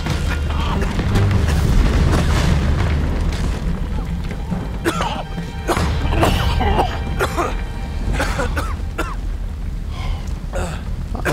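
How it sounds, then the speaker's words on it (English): Explosions shake a burning château in the video game Uncharted 3: a dense, rumbling roar of blasts and crackling fire. Sharper bangs and debris hits break through, with voices talking briefly over the din. "Oh, exploding close, and burning."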